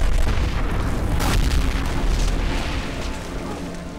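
Deep booming explosions roll across the shore during a staged Peleliu beach landing scene for The Pacific, a dense continuous rumble of blasts with one sharper burst rising out of it.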